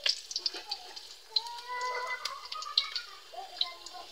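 Garlic and onion frying in a pan for sautéed papaya, with sharp spattering pops and crackles over a soft sizzle, close and uneven, while a voice talks quietly at times.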